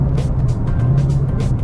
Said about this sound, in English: I can hear one of my valves not closing all the way